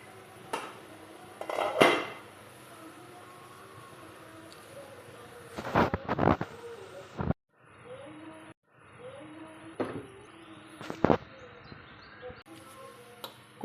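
A lid comes off a covered pan of mushrooms cooking on the stove, with a few sharp metallic clanks and scrapes standing out over a steady background hiss, then brief quiet gaps.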